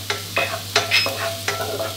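Garlic sizzles in hot oil with a few clattering stirs of a utensil against the pan, steady and close, with a low hum underneath.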